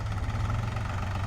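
A New Holland 5510 tractor engine idles steadily with a low, even diesel throb, close and continuous with no voices over it.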